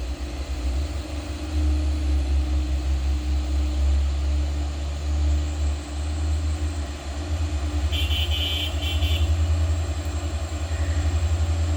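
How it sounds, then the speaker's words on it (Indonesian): A Mitsubishi Canter HDL diesel truck engine idles close by with a steady low rumble, running continuously with no talking. "di sana juga ada truk kol diesel HDL"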